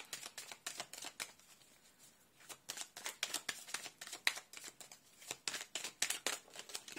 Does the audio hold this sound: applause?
no